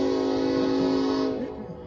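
A loud, sustained train horn blares with steady harmonic tones for over a second, then fades as the rumble of the train passing continues close by.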